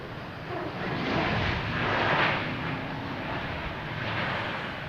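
JetBlue Airbus A321 airliner arriving from Aruba at Boston Logan, a steady broad engine roar with wind rush that swells near the middle as it passes, then holds fairly loud.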